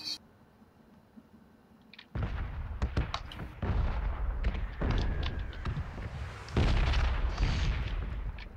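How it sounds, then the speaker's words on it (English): Repeated booming explosions and bursts of gunfire crackle at varying distances after a quiet start in PlayerUnknown's Battlegrounds, loud and sustained like a battlefield bombing a neighborhood. "those explosions are fucking scary. Yeah. They seem to like bombing this neighborhood."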